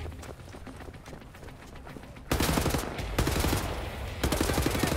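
Rapid gunfire in the video game Wolfenstein: The New Order, first quieter scattered shots, then a loud, dense burst of automatic fire that continues to the end.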